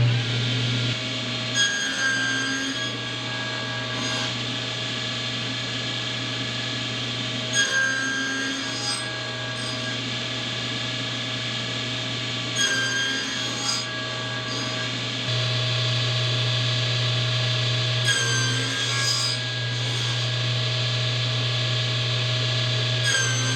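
A power saw hums steadily while making repeated cuts into wood to form a joint, with a constant motor tone and brief rising whines each time the blade bites, close and unbroken.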